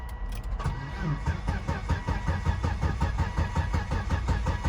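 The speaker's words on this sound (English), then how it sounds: "Wow, it's cranking" A 2001 Volvo S80 engine cranks steadily without catching, the starter's rapid rhythmic churning loud and close and continuing through the whole stretch.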